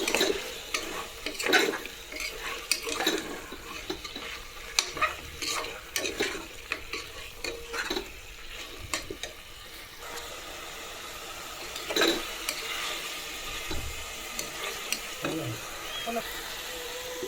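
Chicken fries in a pan as chilli powder, coriander powder and turmeric are stirred in: a soft, continuous sizzle broken by irregular scraping and clinking strokes of a spatula against the pan.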